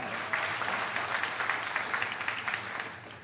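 Graduation ceremony audience applauding the graduates, a steady crowd of clapping that holds for several seconds at moderate volume, with no voices over it.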